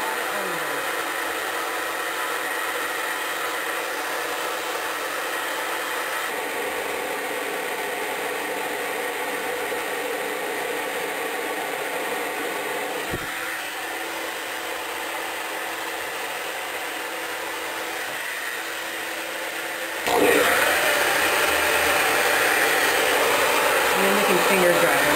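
A hair dryer runs continuously, blow-drying hair for a vintage 1960s flip, with a steady airy roar that surges louder near the end as someone talks over it.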